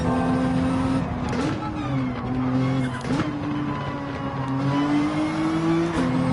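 Race car engines drone loudly and rise and fall in Gran Turismo 7 at Brands Hatch, a close continuous whine with brief dips as gears shift and a faint tyre squeal, with no one speaking.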